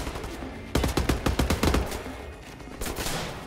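A rapid burst of gunfire in Wolfenstein: The New Order, a dozen or so sharp shots in quick succession, followed by a shorter volley after a brief lull.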